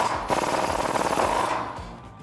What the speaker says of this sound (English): we can tighten that nut up with a 19mm socket